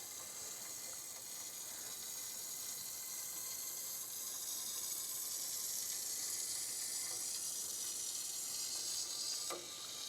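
Water running through household plumbing during a slab leak test, a steady broadband hiss and rush that continues unchanged and fairly close throughout, with no talking.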